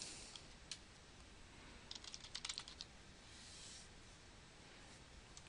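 Typing on a computer keyboard, with quiet scattered keystrokes and a short burst of faster clicks in the middle over a faint room hiss.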